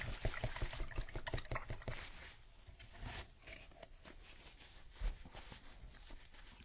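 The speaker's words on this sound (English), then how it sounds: "Just gotta wipe some of that glue out so I can wash it." Water splashes and trickles faintly while a glue-smeared piece from a Halloween book nook vignette is rinsed, with scattered clicks and handling knocks early on, then a softer wash of running water and one sharper bump near the end.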